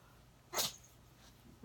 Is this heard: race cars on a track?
no